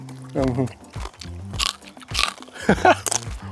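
Crisp bites into roasted pork belly skin cooked over an open fire, with several crunchy cracks and chewing sounds close to the mic, heard in between and under people talking.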